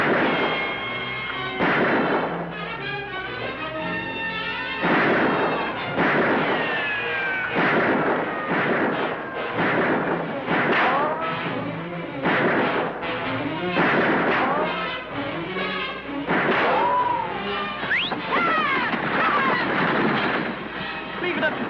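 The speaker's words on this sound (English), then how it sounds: "We better watch our shots, Lofty." Gunshots from a western TV show ring out as loud, sharp bursts in quick succession, mixed with dramatic music and voices shouting between shots.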